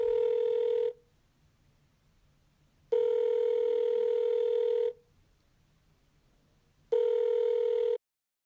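Telephone ringback tone on an outgoing call, three loud steady buzzing rings each lasting about one to two seconds, separated by two-second silences, with no voices.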